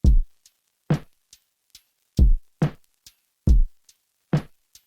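A sparse electronic beat: deep thudding kicks with short, clean ticking processed hi-hat hits between them, varying slightly in velocity and pitch, steady and dry.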